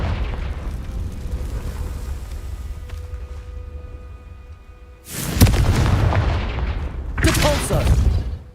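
Two loud explosive blasts of the Confringo fire spell in Hogwarts Legacy burst out close together, each a sharp boom with a crackling, roaring tail, following a quieter stretch of ambient rumble.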